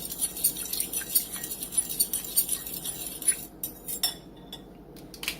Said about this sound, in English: Mix that up together.